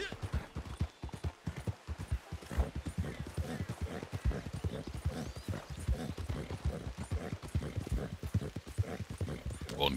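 Steady horse hoofbeats clip-clop at a riding pace through Red Dead Redemption 2 Online on the way toward Valentine, close and continuous for the whole stretch, with game ambience and some talk mixed in.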